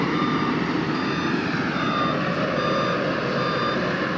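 Rental work vehicles queue to enter a parking lot in the late afternoon. A reversing alarm beeps in a steady, regular pattern over a loud continuous engine and traffic rumble.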